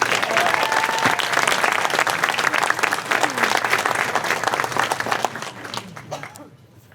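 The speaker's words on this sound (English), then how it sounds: "One more round of applause for Dr." Sustained, dense applause from a banquet audience honoring an award recipient at an annual installation and awards dinner, loud and steady before tapering off in the last second or so.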